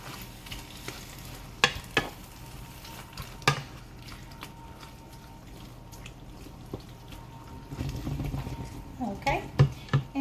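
Canned tomatoes being stirred into a mustard and turnip green dip, with soft scraping and gentle sizzling, a few sharp spoon knocks against the pan, and busier, louder stirring toward the end.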